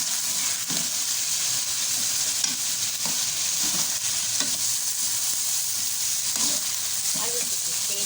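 Chicken sizzles in a karahi while a spoon scrapes and stirs it in steady strokes, a constant frying hiss throughout.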